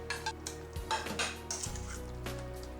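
Yogurt, green chillies, coriander and mint leaves get stirred together in a pot, a quiet close run of spoon scrapes and metal clinks against the vessel, with no voices.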